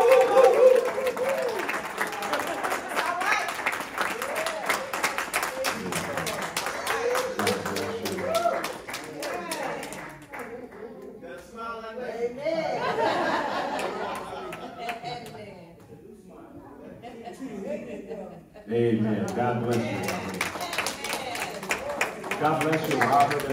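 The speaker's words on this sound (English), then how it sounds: "Put your hands together for Robert Steves." A church congregation at Temple of Deliverance Ministries claps for Robert Steves III, a loud sustained patter of hands that dips midway and swells again, with voices and music mixed in.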